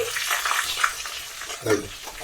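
Small shallots frying in oil with mustard seeds and curry leaves as sambar is made, a moderate sizzle with stirring scrapes and splutters close up, no voices.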